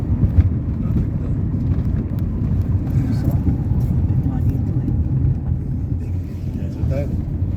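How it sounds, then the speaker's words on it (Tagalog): Road traffic in Lipa City, a steady low rumble of passing vehicles close by that runs without a break, mixed with wind buffeting the microphone and people talking over it. "Ito traffic."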